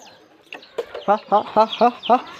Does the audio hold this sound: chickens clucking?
yes